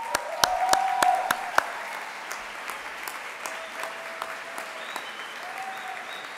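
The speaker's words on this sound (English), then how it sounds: "give a round of applause to those who helped you on this journey, here present and those further afield." Graduates applaud at a college graduation ceremony, a few sharp nearby claps opening onto a wide, sustained round of clapping in a large hall, with a faint tonal hum running underneath.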